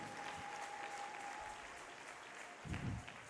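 Congregation clapping during a Sunday church service, a steady, fairly quiet wash of hands over a faint sustained tone, with a brief louder burst near the end.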